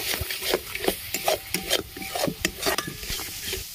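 Spice paste for a tangra fish oil-jhal curry, stirred and sautéed in a pan with sugar added, gives repeated scraping strokes with a soft sizzle underneath, close and steady without pause.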